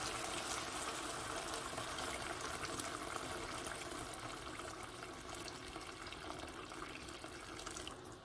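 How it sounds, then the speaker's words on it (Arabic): Hot water pours steadily into a pot of tomato paste and meat, a continuous close-up gushing and splashing that runs the whole time with no talk. "ونضيف عليهم الكميه الكافيه تاع الماء باش يتغطاو"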